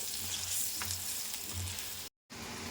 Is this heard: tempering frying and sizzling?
yes